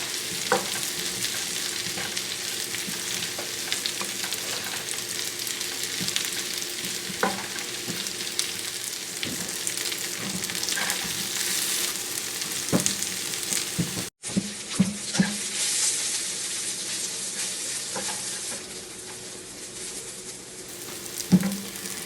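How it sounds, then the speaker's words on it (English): Fresh spinach sizzles and crackles as it wilts in hot bacon drippings in a pan, a steady close frying hiss with occasional stirring scrapes that lasts throughout. "we're going to take the spinach and we're going to wilt it down in our bacon drippings"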